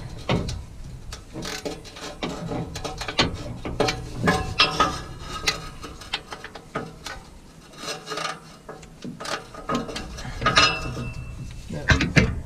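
A ratchet with a deep socket works a bolt by the exhaust under a 2017 Chevy 3500HD during a transmission fluid and filter change, giving repeated close clicking and scraping in irregular bursts.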